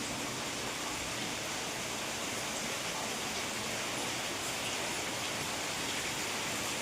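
Steady heavy rain falls throughout, an even hiss with no pauses, fairly close and uniform, with no talking.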